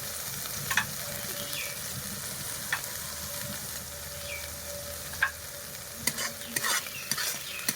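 Spice paste for rui fish kalia frying in oil while being stirred, a steady close sizzle with repeated scraping spatula strokes and occasional clinks against the pan.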